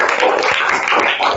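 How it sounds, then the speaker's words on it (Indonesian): Applause from a classroom of students for a classmate, a steady wash of clapping hands filling the room at moderate loudness for the whole moment. "Tepuk tangan buat temannya."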